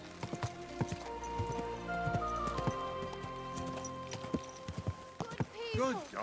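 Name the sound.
horse hooves clip-clopping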